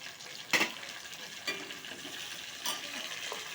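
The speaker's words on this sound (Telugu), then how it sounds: "ఇలా మిక్స్ చేసుకోవాలండి టమాటీని" Tomatoes fry with onions and green chillies in hot oil, a soft steady sizzle broken by a few scraping stirs of a spoon against the pan, close by.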